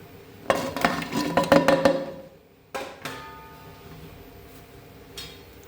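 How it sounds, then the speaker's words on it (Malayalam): Avial vegetable pieces are dropped one by one into a pan of coconut oil, making a quick run of clattering clinks for about a second and a half, then two or three sparser knocks. "ഇനി കഷ്ണങ്ങളെല്ലാം ഓരോന്നായിട്ട് ഇട്ട് കൊടുക്കാം"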